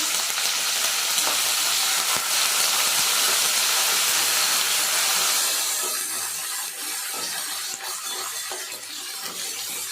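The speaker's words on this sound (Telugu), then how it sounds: "ఇప్పుడు ఇందులో కరివేపాకు, ఎండుమిర్చి వేసుకోవాలండి." Curry leaves and dried red chillies crackle loudly in hot tempering oil, a dense close hiss that eases slightly midway and keeps sizzling with small pops, no talking.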